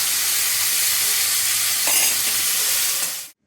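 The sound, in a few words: mixed vegetables frying and being stirred in pan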